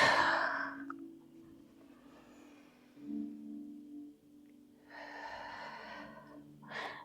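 Deep, breathy exhales during a Pilates class, heard close and fairly loud: a long airy breath at the start, then further slow, drawn-out breaths in and out, with no talking.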